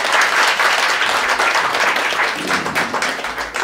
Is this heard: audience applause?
yes